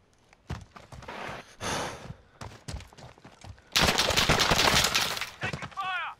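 Gunfire in Call of Duty: Modern Warfare (2019) during an online gunfight: scattered sharp shots, then a dense, loud burst of rapid fire lasting over a second, with short pauses and player voices mixed in.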